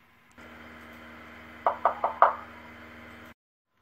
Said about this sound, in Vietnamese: Tôi gõ cửa lần thứ nhất.